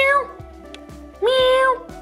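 A small cat gives a drawn-out meow, near and clear, amid background sounds of a polymer clay miniature crafting session with faint knocks.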